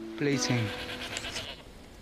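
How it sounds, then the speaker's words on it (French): A lone goat bleats from up on a hillside, two quick wavering cries close together followed by a fainter tail, heard alone over quiet background. "Il y a toujours la même chèvre là-haut, qui reste toute seule à bêler."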